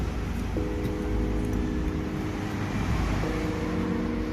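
A Honda Civic FD engine idles steadily after a push-button start with a low hum, a faint tonal whine rising briefly twice, close by and constant throughout.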